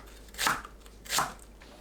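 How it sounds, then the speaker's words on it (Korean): A knife slices green onions diagonally on a cutting board, giving two crisp, crunchy cuts about a second apart, close and fairly quiet with no talk. "파는 어슷 썰어주세요"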